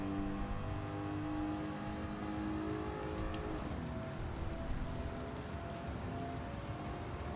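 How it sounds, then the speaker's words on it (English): Classic car engine in Gran Turismo 7 revving steadily and loudly throughout, a continuous droning whine with a brief sharper rise midway, no talk over it. "Trying to get this classic car to go."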